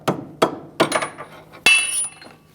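A hammer strikes a metal punch driven through a rear strut mount bolt on a 2002-2006 Toyota Camry: four sharp metallic blows spaced unevenly, the last one ringing loudly with a brief metallic shimmer.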